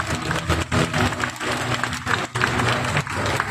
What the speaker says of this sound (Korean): 우리 오지훈 군에게 우리 다시 한 번 더 축하 박수 부탁드리겠습니다.